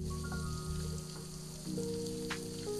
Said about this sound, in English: So now I'm adding my ginger and I'm going to let it also saute.